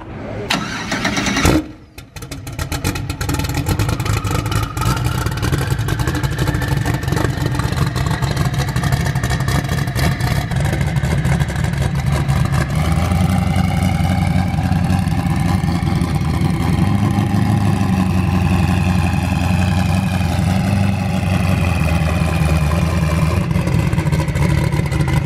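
Redline engine in a Funco F9 buggy being loaded onto a delivery truck at Funco Motorsports: a loud start and brief burst, then a steady, close, continuous engine running and idling with no talk.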